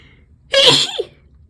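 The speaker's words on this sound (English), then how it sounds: "I'm gonna sneeze." A single sneeze, close and fairly loud, a sharp burst that trails off in about half a second, with quiet room noise around it.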